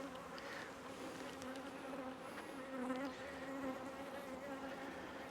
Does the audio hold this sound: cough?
no